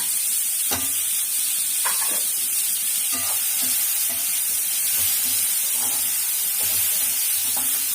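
Tomato sautéing in a pan for crab gravy makes a loud, constant sizzle and hiss, broken now and then by soft stirring scrapes close by.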